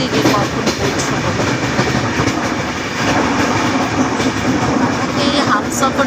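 Inside the Humsafar Express, an all-AC passenger train, a continuous rumble of wheels on rails with rhythmic clatter and rolling noise, heard close and steady throughout.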